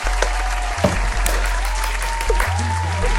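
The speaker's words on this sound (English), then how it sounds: "A round of applause, please." A small podcast studio audience claps for a guest, a dense burst of applause with a few sharper claps and some low rumble, loud and close.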